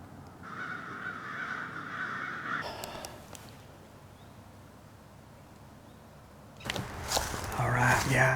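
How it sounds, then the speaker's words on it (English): Crows cawing repeatedly in a wooded hunting area on public land in Ohio, a steady run of harsh calls followed by a gap and then louder, closer caws with rustling. "The crows came back."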